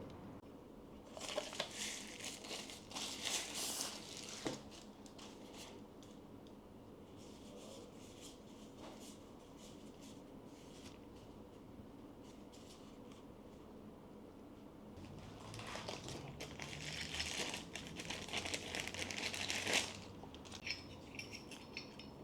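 Quiet rustling and crinkling as a portable espresso maker is unboxed up close, with soft handling noises and louder bursts of crinkly plastic toward the end.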